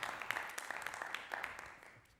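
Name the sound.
studio audience applauding game show winner Hamid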